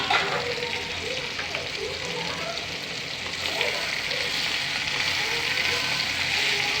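Mustard seeds, curry leaves and dried red chillies sizzle steadily in hot oil for a tempering, a continuous crackling hiss with small pops, fairly close and even throughout.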